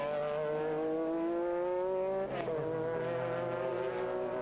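FIA GT race cars, a Freisinger Porsche and a Ferrari, race on track in 2002 with loud, sustained engine whines that shift in pitch as they pass close by, including a brief gear-change dip midway.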